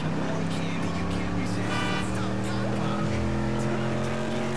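Z-Type car engines in a GTA 5 online race, a steady revving drone with shifting harmonic pitch through the whole stretch, loud and close, with some talk over it.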